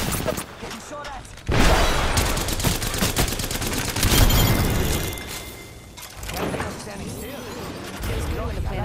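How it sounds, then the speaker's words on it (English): Gunfire in the video game Apex Legends, loud bursts of shots and impacts that come in waves, with players talking over the fight. "Getting shot at."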